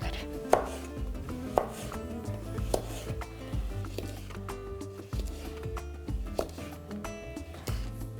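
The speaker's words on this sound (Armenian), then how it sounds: "վարունգը կտրատում ենք ձողիկների" A knife chops a cucumber into thin sticks on a cutting board, with sharp regular taps roughly once per second, close and fairly quiet, with faint background hum.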